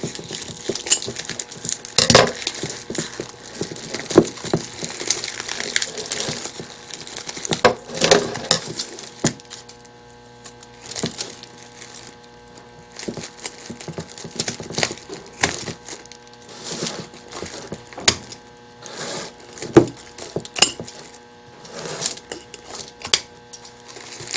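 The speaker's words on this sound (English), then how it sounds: "So I'm just going to cut it a little bit. A little cutting, a little tugging." Cutting and tugging at a bottle lodged inside a handmade candy corn craft vase gives a long stretch of irregular close crackling, snipping and scraping, with uneven clusters of sharp cracks throughout.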